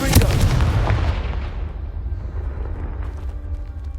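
A Confringo spell explosion in Hogwarts Legacy, a heavy booming blast with crackling debris up front that decays into a long rumbling tail.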